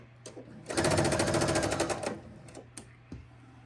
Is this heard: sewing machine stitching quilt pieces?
yes